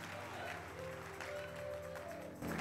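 Church congregation applause during a sermon, faint and fairly steady, with a sustained tonal hum and some voices blended in, ending in a brief louder swell.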